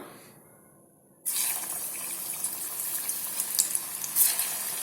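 Green peas vadai batter goes into hot oil after a quiet moment, bringing a sudden, bright crackling hiss that continues steadily with small bursts of spatter close by.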